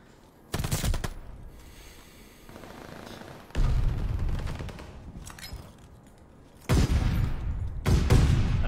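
Rapid automatic gunfire bursts in a first-person shooter match, loud bursts at the start, middle and end with quieter sustained firing and game noise between, close and dense.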